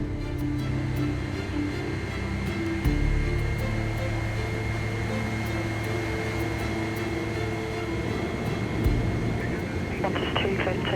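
A Qantas airliner is pushed back from the gate for takeoff, giving a steady loud engine and airport drone with speech running over it throughout.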